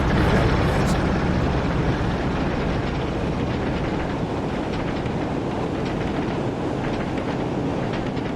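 A train runs on rails in the Train Sim World 2020 game, a loud continuous rumble with wind-like rushing and faint rhythmic clatter throughout, steady and close.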